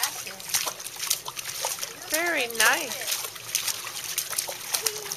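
A young child splashes water in quick wet slaps and trickles while an adult voice chatters in a sing-song tone over the sloshing.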